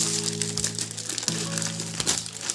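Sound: opening the packaging of a Pokemon magazine

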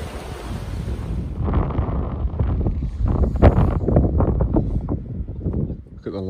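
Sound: flood water rushing through a woodland

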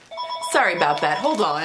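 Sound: telephone ringing

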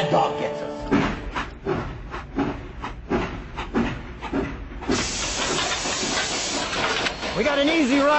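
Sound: steam train hissing in a video game

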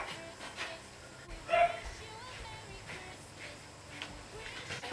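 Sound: neighbour's puppy barking and whimpering

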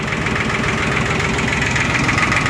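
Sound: Yanmar YM1610 Japanese tractor engine idling

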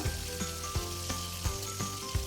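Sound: hilsa fish lightly frying in oil

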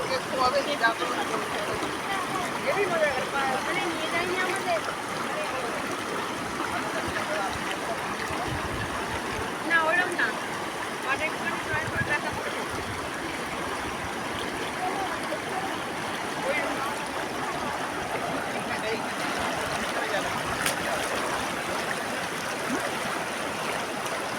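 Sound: river water flowing over stones

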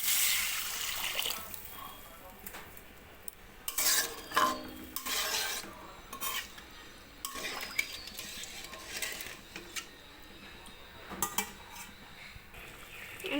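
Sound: adding water to potatoes and spices in a pan

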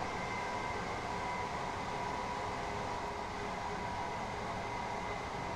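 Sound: train running through hills in Train Sim World video game

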